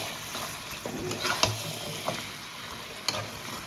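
Potato pieces frying and being stirred into mutton curry in a kadai, a steady low sizzle broken by several scraping spatula knocks.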